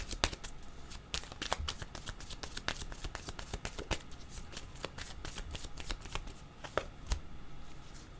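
A deck of tarot cards is shuffled by hand for a reading: a continuous run of quick, crisp flicks and riffles up close, fairly quiet and with no talk over it.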